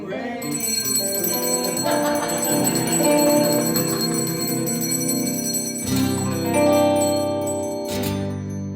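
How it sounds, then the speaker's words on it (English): An iron bell ringing during a live music performance in a hall, sustained metallic tones with shimmering overtones that linger and swell, struck again midway and ringing on loudly alone. "I'm taking up this iron bell. I'm gonna let it ring, ring, ring, ring, ring, ring."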